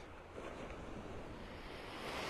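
Surf rolls onto a quiet, empty beach in North Naples, Florida, a constant soft wash of breaking waves mixed with wind rumble on the microphone, heard at low level with no voices.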